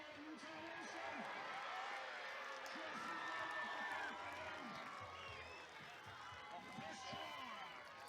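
A rugby league grand final crowd roars and cheers in a steady, distant swell, while a commentator talks over it throughout.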